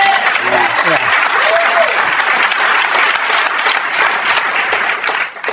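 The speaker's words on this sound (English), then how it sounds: "the guys are clapping because they're sitting next to their wives" A studio audience applauds continuously, with a few cheering voices and whoops rising briefly at the start before settling into a steady wash of clapping.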